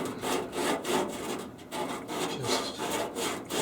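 Sandpaper of 320 grit rubs back and forth over an aircraft part for a Sonex kit plane, making a close, steady rhythmic scratching in about six even strokes.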